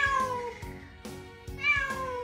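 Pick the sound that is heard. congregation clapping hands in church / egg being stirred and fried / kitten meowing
kitten meowing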